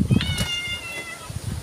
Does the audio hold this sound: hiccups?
no